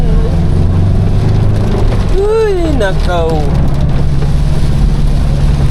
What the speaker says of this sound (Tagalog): Malakas ang ulan dito oh. Malakas ang ulan.